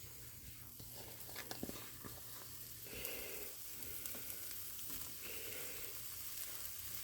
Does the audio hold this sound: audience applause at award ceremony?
no